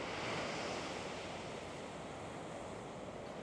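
Ocean waves washing onto the resort beach at Nusa Dua, Bali, a broad continuous surf roar with some wind noise on the microphone, close and steady with no voices.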